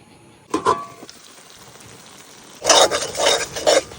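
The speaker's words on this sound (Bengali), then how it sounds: "এখন মশলাটারে একটু ভালো করে কষাই নিই।" Spice paste is fried and stirred in a pan for a village-style red curry of desi black rooster, faint sizzling under a few clattering scrapes of a utensil, then a louder burst of stirring strokes near the end.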